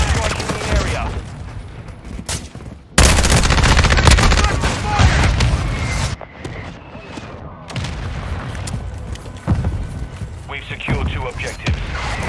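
Grenade explosions and rapid gunfire in a Call of Duty Modern Warfare II match: loud bursts of automatic fire, heavy booms and scattered shots, with brief gaps, soldiers' voice callouts mixed in throughout.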